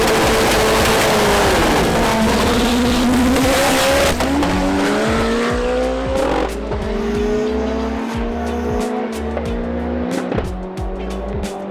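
A Toyota Supra MK5 race car engine roars continuously near and loud at TX2K 2021 in Texas, rising and falling in pitch through gear changes, with tire squeal mixed in.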